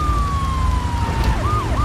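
Police car siren in the video game GTA 3, a steady wailing tone that sweeps into a quick yelp near the end, heard loudly over a dense rumble of game engine and traffic noise.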